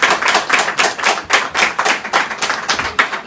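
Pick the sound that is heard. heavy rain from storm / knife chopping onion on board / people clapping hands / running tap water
people clapping hands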